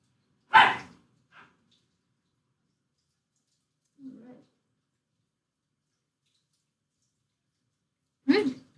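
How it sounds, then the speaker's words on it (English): Dogs bark in the background with a few sharp, well-separated yelps spread across long quiet gaps, moderately loud and then fading. "including all the barking of the dogs in the background"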